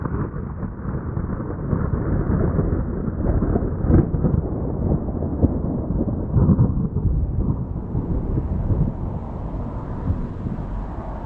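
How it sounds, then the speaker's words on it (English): A thunderstorm rumbles with a steady deep roll of thunder and rain, a dense low roar with a few sharper cracks, close and loud with no voices. "The weather quickly changed and we ended up with a great thunderstorm that lit up the dark skies."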